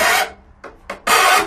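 A hand file rasps across metal to take off a sharp lip left by a bench grinder, several close, loud strokes in a quick uneven rhythm with brief gaps between them.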